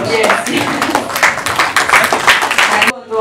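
At a film event, an audience claps in a dense, fairly loud burst for a guest, with voices mixed in, before the sound cuts off abruptly near the end.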